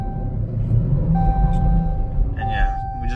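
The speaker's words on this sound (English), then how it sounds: "we just burn the tires" A 2018 Dodge Charger SXT Plus with Super Track Pak, rear-wheel drive, spins its tires on wet pavement under launch control: a steady, heavy engine rumble with a rising whine, loud and close, continuous for a few seconds.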